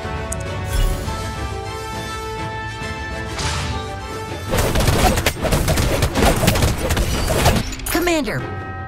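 Gunfire and booming impacts in the fantasy mobile game Inariel Legend, a dense, loud flurry of shots and thuds that erupts after several seconds of music and game sounds, with a voice chiming in near the end.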